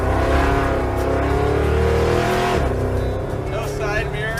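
An old project car with driveshaft vibration, no side mirror and weak brakes accelerates up a freeway on-ramp, its loud engine climbing in pitch, dropping at a gear change, then rising again while people talk inside.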